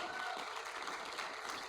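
Awards ceremony audience at an International Women's Day event applauds briefly, a faint, distant wash of clapping lasting under two seconds.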